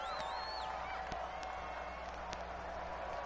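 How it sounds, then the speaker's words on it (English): Stadium crowd in Madden 21 applauds the defense with a steady, distant roar of clapping and cheering, with whistles and shouts rising above the continuous background bed. "How about some applause for the defense there?"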